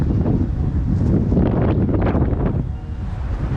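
Strong wind gusts at Spoon Lake buffet the microphone in a loud, rumbling roar that swells and eases, peaking in the middle before dropping slightly toward the end.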